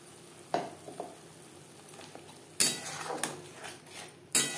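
Ground spices for Bengali doi mach fry in a pan over medium-low flame, a soft steady sizzle broken by several sharp clinks and scrapes of a spoon stirring against the metal.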